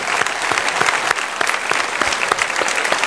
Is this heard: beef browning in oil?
no